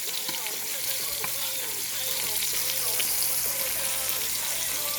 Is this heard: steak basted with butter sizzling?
yes